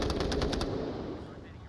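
Automatic rifle fire in the VR shooter Onward, a rapid burst of shots emptying a full magazine at close range, sharp and loud in the first half before trailing into the game's background noise.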